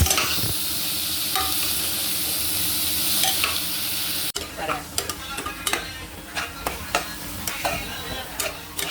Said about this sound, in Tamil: தக்காளியை போட போகிறோம்.